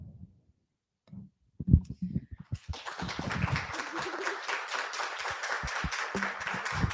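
After a few scattered claps, a crowd breaks into sustained applause, dense and steady, heard from within the audience.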